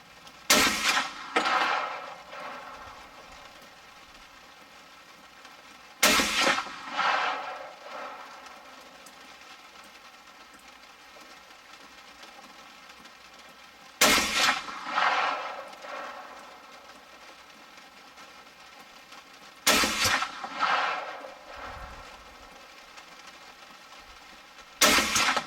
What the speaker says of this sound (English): I'll just shoot the middle top target this time.